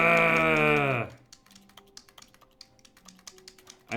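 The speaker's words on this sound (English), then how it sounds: "I like whenever I'm pushing any keys on the keyboard, the game automatically" Keyboard keys pressed in the game Stanley Parable 2 Deluxe, a quick irregular run of close, crisp taps after a long bleating, sheep-like tone that stops abruptly, with the tone returning at the end.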